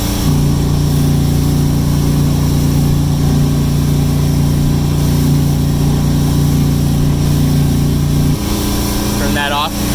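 A 2011 Sea Ray SLX 270 boat engine idles with its exhaust opened, a steady low rumble running throughout that shifts slightly near the end. A voice speaks over it.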